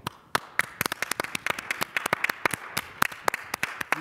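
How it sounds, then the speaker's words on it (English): Sparse clapping for winners at an online awards ceremony, a few hands producing sharp, separate claps at an irregular, quickening pace rather than a full crowd's roar. "Please hear our applause."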